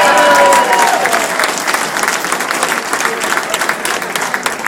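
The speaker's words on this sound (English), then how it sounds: "Give this man a round of applause." A crowd at a trade union fish fry bursts into loud applause, dense and continuous from the start and easing slightly over nearly five seconds. A faint voice lies under the clapping.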